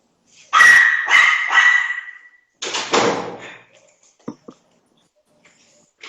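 A dog barks several times in quick succession, loud and close, followed by a sliding or rattling door sound and a few faint knocks in a quiet room.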